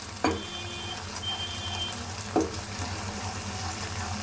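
Cauliflower fries in a pan with a steady low sizzle, while two sharp scraping knocks from stirring stand out near the start and midway, close and fairly loud.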